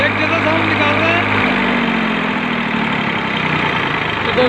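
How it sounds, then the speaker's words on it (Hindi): A tractor engine with an abnormal noise fault is revved, producing a loud, continuous rough mechanical roar whose low hum drops away partway through as the throttle changes, with a steady vibrating rattle underneath. "मेरा जो ट्रैक्टर है वो बिल्कुल एक जैसा साउंड निकाल रहा है। मैं एक बार और रेस दे के आपको दिखा देता हूँ।"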